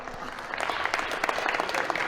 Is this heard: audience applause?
yes